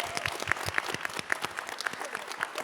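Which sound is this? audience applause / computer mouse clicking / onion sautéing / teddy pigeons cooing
audience applause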